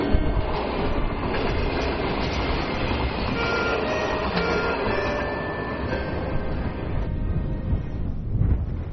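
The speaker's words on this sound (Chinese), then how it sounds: "这趟火车也是他们唯一的交通工具" A military train running along a railway line across the Gobi desert, a steady loud rumble with rhythmic clickety-clack and occasional wheel squeal, close and continuous.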